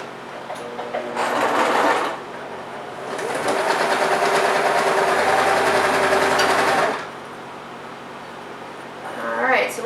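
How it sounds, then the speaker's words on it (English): A sewing machine stitches jelly roll quilt strips together down the long side, a steady close whirring run of about five seconds after a brief opening burst, with another short burst starting at the end. "So now we're going to sew these together down the long side again."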